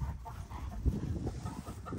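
A chicken clucks outdoors in low, soft, irregular bursts, fairly close but muffled, against a busy background rustle.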